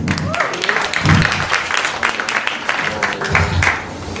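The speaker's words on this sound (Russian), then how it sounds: "Ваши аплодисменты, два шахматиста." Studio audience applauding at a comedy show, a dense wash of clapping that swells and fades across a few seconds with some voices mixed in.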